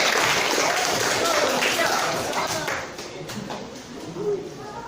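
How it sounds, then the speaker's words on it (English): A class of beginner English learners clapping hands, a fairly loud patter of applause that fades after a few seconds while a voice talks over it. "clap your hand"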